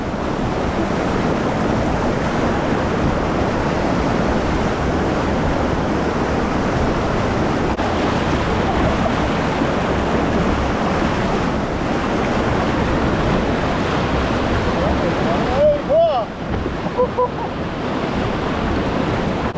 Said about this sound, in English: Try to get this thing in a little surf wave here.